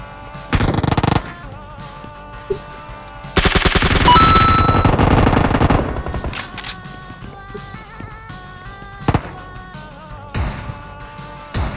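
Gunfire in the mobile battle royale game PUBG Mobile, loud bursts of automatic fire with a long sustained volley in the middle and scattered single shots after, close and dominant with no talking.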